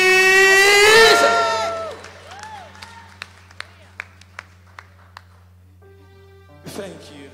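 A church congregation bursts into loud clapping, cheering and whoops at a worship service, the applause swelling then fading into a few scattered single claps before a brief shout near the end.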